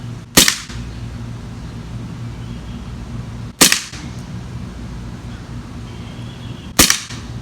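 Three sharp, loud shots from a Beretta M9A3 CO2 BB pistol with blowback action, spaced a few seconds apart during target shooting, each a crisp crack over a steady low hum.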